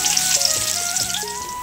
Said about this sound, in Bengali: এবার পেঁয়াজটা ভেজে নিয়েছি